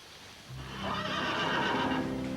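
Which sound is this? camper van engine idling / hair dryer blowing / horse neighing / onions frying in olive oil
horse neighing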